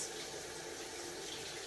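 Water runs from a kitchen tap in a continuous, fairly quiet stream while rinsing during cooking, with no talking.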